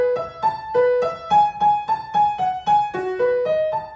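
Slow, clean piano passage from an arrangement of a piece from Koe no Katachi, played as a steady run of evenly spaced single notes with a bright, ringing tone and no talking.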